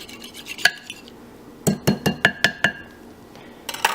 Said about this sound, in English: And then just to make sure that it's all blended, just whisk it again.